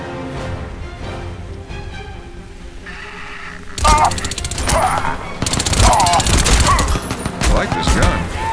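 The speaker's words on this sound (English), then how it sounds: "I like this gun." Rapid gunfire in Crysis 2 Maximum Edition on PC, loud bursts of automatic shots that erupt after quieter music and ambience and keep firing in clustered volleys for several seconds.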